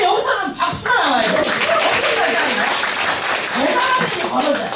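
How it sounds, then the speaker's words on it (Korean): Audience clapping at a Korean business sponsor's motivational talk, a loud steady patter of hands with scattered laughter and voices mixed in throughout. "여기서는 박수가 나와요"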